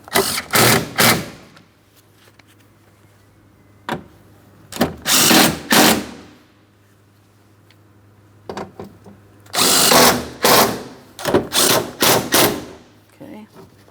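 A power drill runs in several short, loud bursts while tightening the bolts on a 2003-2007 Cadillac CTS front window regulator, with quiet pauses between the whirring spurts.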